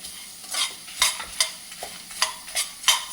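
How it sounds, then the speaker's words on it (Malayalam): A spatula scrapes and stirs dry ingredients being dry-roasted without oil in a hot pan for idli podi, rhythmic rasping strokes roughly every half second with faint crackling, no voices. "എണ്ണയില്ലാതെ ഡ്രൈ ഫ്രൈ ആണ് ഫ്രൈ ആണ് ചെയ്യുന്നത്"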